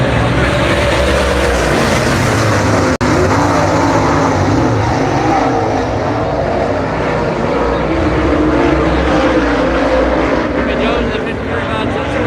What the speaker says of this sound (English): Side by side down the back stretch. Heat race action here.